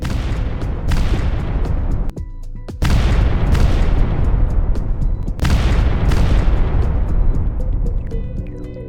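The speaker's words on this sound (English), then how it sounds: "Ukrainian forces then fired an anti-tank missile, successfully destroying one of the tanks" Anti-tank missile fire and explosions aimed at Russian tanks, a series of loud heavy booms with long rumbling tails, separated by brief gaps, close and dominating.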